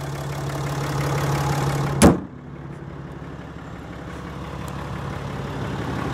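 A 2015 RAM 3500 with a Cummins 6.7-liter turbo diesel idles in a steady, close rumble. A single sharp knock lands about two seconds in, and the idle carries on a little quieter afterward.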